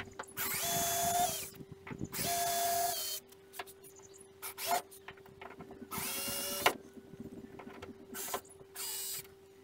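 Power tool undoing the J-rail fixings on a 1966 Viscount Ambassador caravan, several whirring bursts of a screwdriver drill, each a second or so long, separated by clicks and handling noise, close up.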